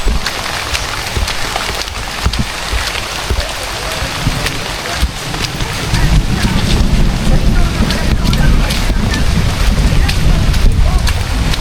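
Outdoor rain with gusting wind buffeting the microphone, a dense continuous hiss that grows heavier and louder partway through.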